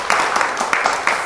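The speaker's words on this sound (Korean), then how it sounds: "우리 적지만 자축의 박수 한번 합시다" A short, loud burst of clapping from an audience at a Buddhist dharma lecture, with overlapping claps coming in quick clusters.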